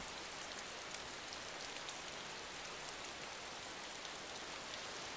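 Steady rain pours down in a video game's wooded pine forest, a dense continuous hiss of drops on surfaces with no let-up, moderately loud and alone without voices.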